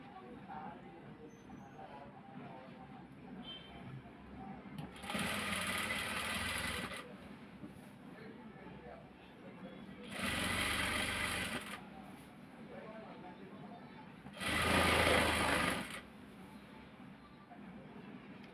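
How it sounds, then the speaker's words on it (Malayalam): A sewing machine stitches fabric in three loud bursts of rapid whirring, each lasting a second or two, separated by quieter stretches of low room sound. "എനിക്ക് ഈ സ്റ്റിച്ച് ചെയ്യുന്ന ആ സ്റ്റിച്ച് വീഴുന്ന സൗണ്ടില്ലേ ഭയങ്കര ഇഷ്ടമാണ് കേൾക്കാൻ"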